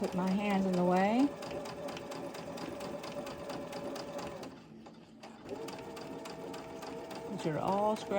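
A sewing machine runs steadily while stitching quilt pieces, with a fast, even mechanical whir that stops briefly and then resumes, and someone talks over it at the start and end.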